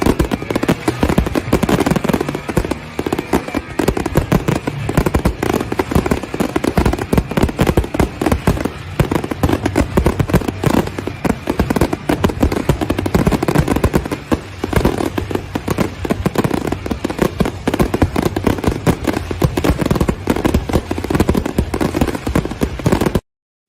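Dense fireworks show with about twenty remote fire pots shooting flames into the air, a continuous barrage of loud pops, crackles and booms filling the whole stretch without a pause.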